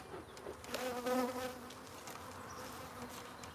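Honey bees buzz steadily at close range during a honey harvest, a dense hum that swells briefly as one passes near, then settles into a low, constant drone.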